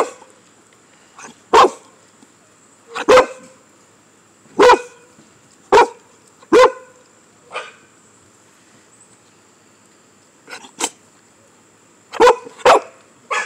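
A pitbull barks in sharp, separate bursts, about a dozen loud close barks spaced irregularly with quiet gaps, some in quick pairs, no talking over them.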